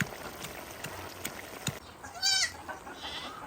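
A young goat in a village bleats once in a clear, wavering, close call after a few scattered clicks and knocks, with faint fainter bleating following.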